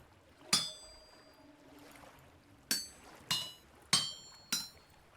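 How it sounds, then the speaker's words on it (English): A hammer strikes copper on an anvil in the game Vintage Story, five sharp metallic clangs with ringing overtones, spaced unevenly over a low background. "You right click with the hammer, it'll turn it."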